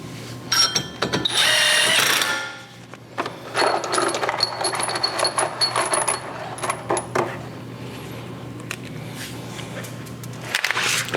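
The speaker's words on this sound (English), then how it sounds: "Let's see if we can snug it up with these screws here." A power tool whirs in short bursts while driving screws to secure a wheel spacer on a VW Golf R or Porsche Boxster Spyder, with metallic clinks and a brief dense burst near the start, close by.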